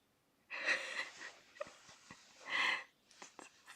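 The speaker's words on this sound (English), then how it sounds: "I can hear him snoring" A small dog snoring faintly nearby, a few soft wheezing, snorting breaths in an irregular rhythm against a quiet background.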